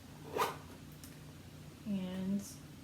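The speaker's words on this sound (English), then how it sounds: "both of them are working zippers" A zipper on a boot is worked in a quiet room: a brief, faint zip stroke, then a longer soft pull a moment later, with low background hiss.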